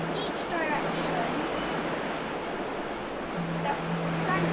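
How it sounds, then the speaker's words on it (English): Broadband ocean wave surf in the Roblox game Grow a Garden, a steady wash of rolling water filling the whole clip at even loudness with a faint low hum underneath. "There was waves coming each direction"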